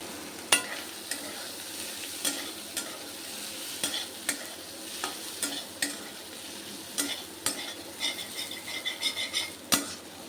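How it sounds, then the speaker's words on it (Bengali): Chicken pieces fry in a pan for chicken fried rice, a continuous sizzle broken by regular sharp scrapes and knocks of a utensil against the pan, close up with no talking. "চিকেনটা ভেজে নিচ্ছি এখানে"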